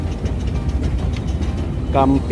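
A metro train runs with a steady low rumble and rattle heard from inside a station or carriage; a brief voice speaks near the end.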